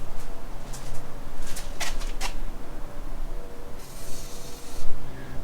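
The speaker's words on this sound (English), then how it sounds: "But this time Dan says we should put WD-40 on the bolts first." Short hissing bursts of WD-40 sprayed onto the subframe bolts of a Unimog U1300L, several quick sprays in a cluster and then one longer spray, close and fairly quiet.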